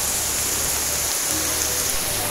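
Steady rain pouring down outdoors, an even close hiss of drops with no voices.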